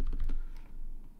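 Quick keystrokes on a computer keyboard while entering commands on a Raspberry Pi 5 running Kali Linux, a short run of soft close taps.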